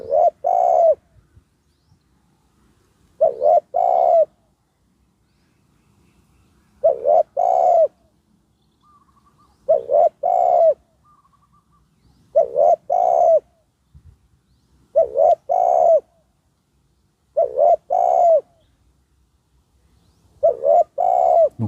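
Trained spotted dove decoy cooing in a steady series of rounded, repeated coo phrases, about one every two and a half seconds, close and clear against a quiet background.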